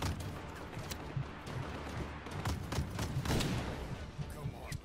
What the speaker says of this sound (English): Hey, what is that thing that keeps shooting at me?